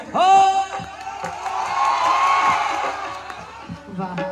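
A crowd at a Bhojpuri stage singing contest roars, cheers and whoops to welcome the singer Anupama, a loud sustained burst of voices with shouts rising over it throughout.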